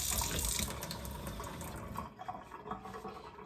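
Tap water running into a kitchen sink during cleaning, a close steady splashing stream that softens and breaks up toward the end, with no talking.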